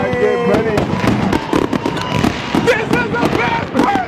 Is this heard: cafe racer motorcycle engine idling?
no